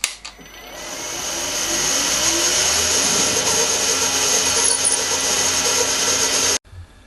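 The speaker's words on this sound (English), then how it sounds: "I'm drilling 5mm for 6mm tapping." A power drill drills a 5mm hole into a steel hammer head with a loud, steady whine lasting about six seconds before cutting off abruptly.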